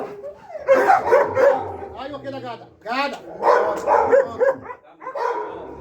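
A dog being trained against a wooden stick gives sharp, close barks and yips in bursts, mixed with someone talking to it.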